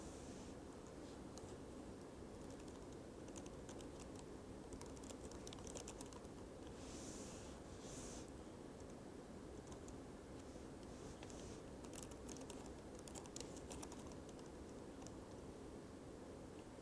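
Computer keyboard typing, entering text in Photoshop, as a steady stream of soft, quiet keystrokes over faint background hiss, with no voices.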